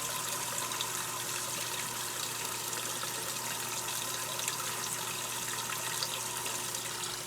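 Water trickles from a bathtub faucet into an RV tub while being de-winterized for the season, a steady, soft, even flow with no other sounds.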